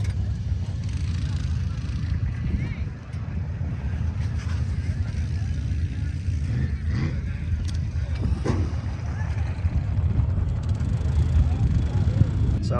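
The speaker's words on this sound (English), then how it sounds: "It looks like they got a little boat race in here on the river" Motorboats race along a river in the distance, a low droning engine rumble mixed with wind buffeting the microphone, continuous and moderately loud.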